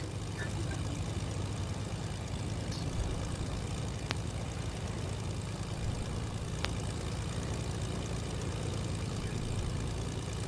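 A low, steady video game airplane engine drone hums throughout, continuous and even, with a couple of faint clicks and a voice briefly under it.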